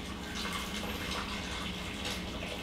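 Boiling water is poured into a packaged drink mix as a continuous gushing, splashing stream at moderate volume, with no voices over it.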